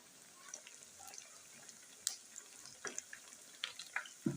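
Aloo gola kebabs frying in a pan give a faint, steady sizzle with scattered light pops and clinks, quiet and close, no talking.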